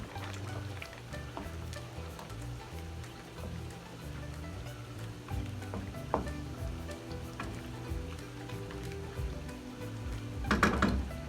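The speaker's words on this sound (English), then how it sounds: "Gonna let this cook down for just about 2 more minutes, and then our saltfish is finished" Saltfish sizzles and bubbles softly in a pot as it cooks down, a steady low simmer with occasional faint stirring clinks and a brief louder scrape near the end.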